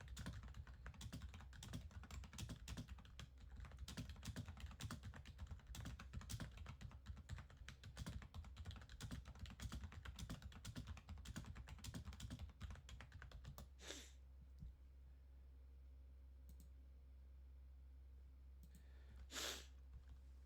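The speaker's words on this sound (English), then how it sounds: "I'm typing something real quick on Discord." Rapid, steady typing on a computer keyboard, dense clicking keystrokes for about fourteen seconds before stopping into quiet room tone with a couple of brief noises.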